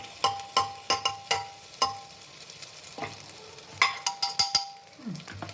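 Butter goes into a pan for tempering pav bhaji, giving a soft sizzle under sharp metallic clinks and scrapes of a spoon stirring, several taps in quick bursts with quieter gaps between.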